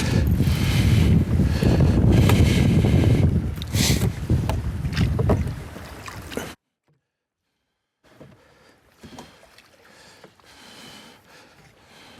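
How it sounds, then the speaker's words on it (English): Oars stroke a canoe through water with rhythmic splashing and swishing, loud and close under wind buffeting, then a brief silence and quieter, more distant paddling sounds. "See how much more manoeuvrable it is with the oars."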